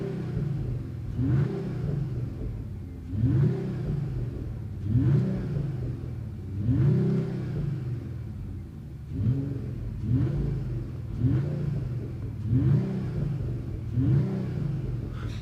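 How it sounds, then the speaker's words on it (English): Mercedes CLE53 AMG Cabriolet with its 449 hp six-cylinder engine, heard with the windows down, revving in a steady series of about eight rising, swelling bursts roughly every two seconds over a constant rumbling idle. "And you can instantly hear the engine and race."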